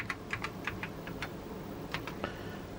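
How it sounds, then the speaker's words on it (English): Keys on an old Apple keyboard with square key switches under each key click in an uneven run of sharp, close taps, then pause before a few more strokes, with no speech. "this keyboard is actually made up of these square switches"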